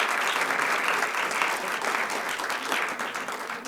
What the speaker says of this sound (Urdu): ان کے لیے ایک زوردار تالی بجائیے